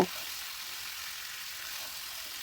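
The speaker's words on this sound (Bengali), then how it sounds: "ভেজে রাখা চিকেনটাও এর মধ্যে দিয়ে দেব এরপর চিকেন সহ মশলাটাকে আরও দু থেকে তিন মিনিটের মতো ভালো করে নেড়ে চেড়ে কষিয়ে নেব" Chicken, potatoes and spices frying in a pan, a steady broadband sizzle close up and continuous, with a brief stirring clatter at the start.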